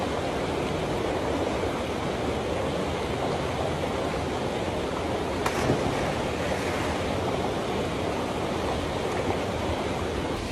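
A hidden waterfall on the Aceh–North Sumatra border roars as a constant, broad wash of falling water, steady and enveloping, with a brief knock near the middle and no talk.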